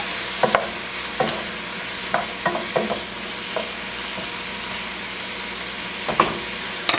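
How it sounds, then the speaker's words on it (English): Chicken stir fry sizzles steadily in a pan with soy sauce added, and a utensil scrapes and clatters against the pan at irregular intervals, loud and close. "I'm going to add about a tablespoon of soy sauce and continue to stir."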